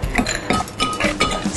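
Ice cubes dropping into a cocktail of lime juice, cranberry juice, triple sec and vodka, giving several bright clinks in quick succession, close and moderately loud, with no talking.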